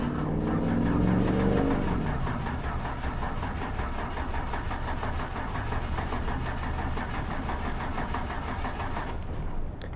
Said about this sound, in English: Let's try to crank this over.